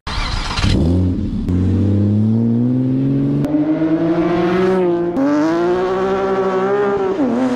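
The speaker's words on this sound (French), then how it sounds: "Un vrai caillement avec l'échappement libre comme moi, ça ressemble à ça." A Porsche engine with a straight-pipe free-flow exhaust revs loudly up and down in several close, rising blips, with a harsh raspy tone and no talking.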